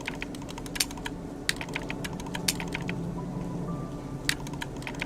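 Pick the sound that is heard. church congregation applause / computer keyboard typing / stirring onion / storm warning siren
computer keyboard typing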